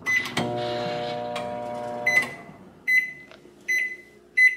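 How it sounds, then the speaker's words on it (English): A microwave oven hums steadily with a few clicks, then stops and gives three separate loud beeps in a row. "let's microwave a little bit"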